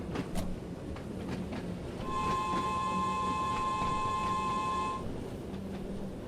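A train in Train Sim World 2 on the Island Line accelerates with a steady rumbling drive, and a long sustained horn blast sounds for about three seconds in the middle.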